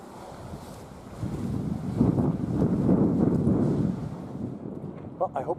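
Wind gusts roar around the Thousand Islands Boat Museum in Gananoque, building to a strong, buffeting rush that buffets the microphone before easing slightly, with faint talking mixed in near the end.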